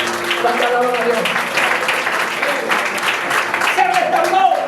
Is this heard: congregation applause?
yes